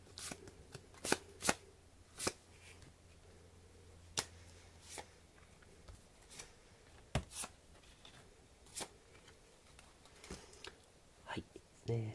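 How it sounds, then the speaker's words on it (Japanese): Panda tarot cards shuffled by hand, with soft irregular riffling and sharp card taps scattered through the clip while someone speaks quietly over them. "じゃあ、こちらのね、パンダのタロットカードから引いていきますね。 こちら切ります。"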